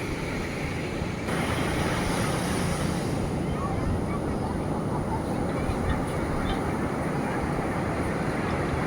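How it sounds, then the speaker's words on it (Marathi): Surf washes onto the beach at Ganpatipule, Maharashtra, in a steady broadband roar, with wind buffeting and distant voices of people mixed in. "पाणी येत आहे"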